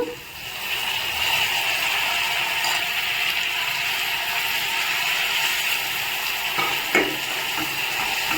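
Onion and tomato fry in a pan for upma, giving a steady, close hiss and sizzle throughout with a few faint clinks of a stirring utensil.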